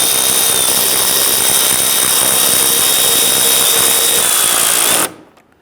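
Power tool snugging down bolts on a 2011-2019 Ford Explorer panel during an emblem replacement, giving a loud, steady high-pitched whir that runs for about five seconds and then cuts off abruptly.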